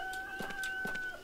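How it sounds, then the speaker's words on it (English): Chickens cluck in short, close, repeated bursts inside the horror video game DreadOut, heard against a faint steady tone with no talk. "Chickens! I like the chickens!"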